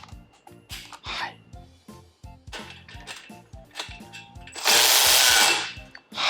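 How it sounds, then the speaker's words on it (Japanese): Milwaukee cordless high-speed ratchet with a socket loosening a fastener, heard in short whirring bursts with clicks and handling noise between, ending in one longer, louder run near the end. "こちらね、ハイスピードラチェットの方でやります。"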